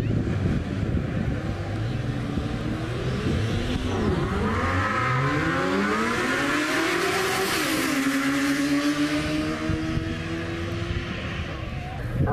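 Drag racing motorcycles, a 900 Kawasaki and a 750 Suzuki, launch and scream down a beach strip, engines rising and sweeping through gears at close range, loud and continuous with wind buffeting and faint talk beneath.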